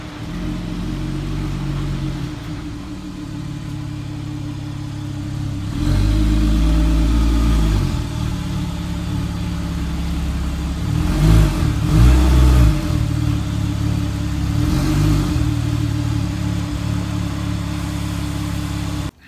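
A Porsche car engine idles and revs as it is backed into a wash bay, a steady low rumble broken by a few throttle blips, close by and alone without talk.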